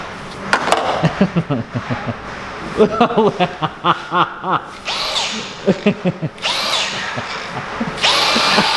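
A power screwdriver drives screws in a string of short, whirring bursts, some quick and some longer, with brief pauses between them and light voices and chuckling around it.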